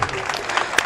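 Audience applause at an award distribution during a mushaira in Malad: a brief, dense burst of steady clapping from a crowd filling the whole moment at moderate loudness.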